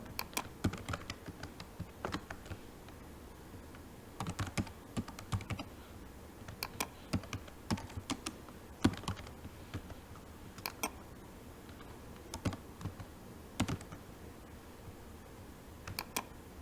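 Someone types an email on a laptop keyboard, with quiet irregular bursts of light key clicks and brief pauses between them, close and unaccompanied by speech.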